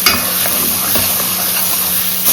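Something frying in a pan during preparation of makki ki roti, a dense, steady sizzle holding throughout with a faint scrape near the end.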